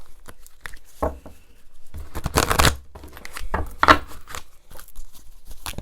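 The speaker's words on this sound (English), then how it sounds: "I want to shuffle the pile" A pile of numerology guidance cards is shuffled by hand, giving soft, irregular papery riffles and flicks in short bursts, close and fairly quiet.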